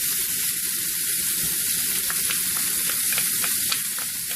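Garlic sizzling in a hot frying pan while making chicken cacciatore, a loud, continuous crackling fry with scattered small pops and stirring, close and steady throughout.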